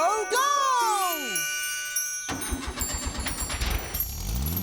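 A cartoon car's engine starts up by magic after a run of sparkly chimes, then settles into a close, steady sputtering idle with a tinkling jangle at the start and no talking over it.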